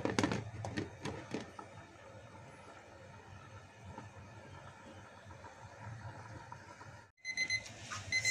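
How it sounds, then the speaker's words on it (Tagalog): A kitchen timer rings in a continuous rapid electronic trill, fairly faint, with brief clattering noises at the start and near the end, while fish steams. "kung naririnig nyo, tumutunog na po yung timer ko"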